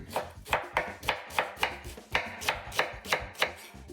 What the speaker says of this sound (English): And then we're gonna cut this nice and thin.